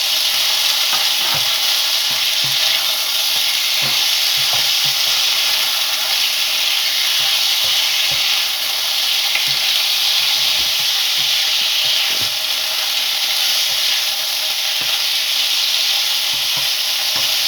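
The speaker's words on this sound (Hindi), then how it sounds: "आँच जो है दरमियाने दर्जे की रखनी है और चिकन को हल्का हल्का सा सुर्ख करना है।" Chicken sizzles steadily in a pan over medium heat, a loud continuous hiss with scattered small pops and occasional stirring clicks, no talk.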